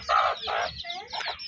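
Hens clucking with high chirps of chicks mixed in, close by, in short bursts with brief pauses.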